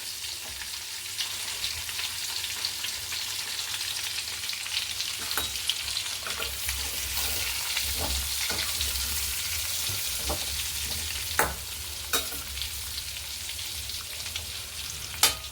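Stuffed parwal (pointed gourd) frying in a pan over a low flame, turned to cook the other side: a steady, even sizzle with a few sharp spatters and clicks, no voices.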